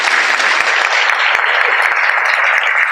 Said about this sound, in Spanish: Quiero que por favor que le demos un aplauso especial a Santiago y a David.